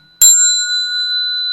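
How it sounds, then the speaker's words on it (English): A single strike of a small ceremonial bell rung for bowing, a loud, bright metallic ding followed by a long, clear, steady ringing tone that holds without fading in a quiet room. "I'll ring the bell."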